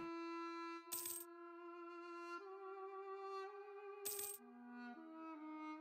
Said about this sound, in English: The sound of like the purse coins and the shekels change. That means that end of a month.